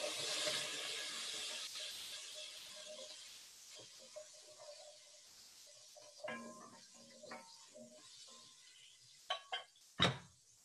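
Water splashed into frying bacon in a pan bursts into a loud hiss of steam that slowly fades to quieter sizzling, broken by a few sharp clanks and knocks of cookware.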